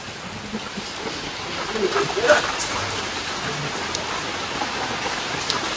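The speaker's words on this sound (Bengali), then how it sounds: "বৃষ্টি হচ্ছে" Rain falls steadily outdoors, a continuous close hiss and patter that holds at an even level for the whole stretch, with a faint murmur beneath it.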